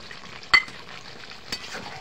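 Chicken curry (kosha) sizzles softly in a pan while a spoon stirs it, with two clear knocks of the utensil against the pan over a low frying hiss.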